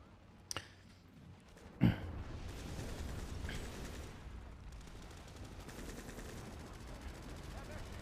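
Shotgun gunfire in a video game: two sharp blasts about a second apart, the second louder, followed by a steady bed of low game noise.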